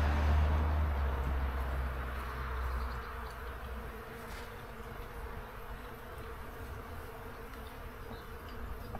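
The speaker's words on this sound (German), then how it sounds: "Der sitzt voll mit Bienen. Fleißige Bienen." A steady, low buzzing of honeybees fills the air outdoors by a vegetable garden, with a passing car rumbling in the background at the start.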